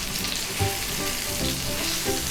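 Rava-coated fish fries in a pan with a loud, continuous sizzle and crackle, steady and close, with occasional small bursts as the pieces are turned and no voices.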